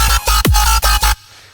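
A Serum bass patch with multi-band compression: loud, dense synth bass stabs in a quick choppy rhythm, one note diving sharply downward, cutting off abruptly after about a second.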